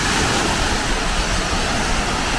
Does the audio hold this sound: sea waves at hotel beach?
yes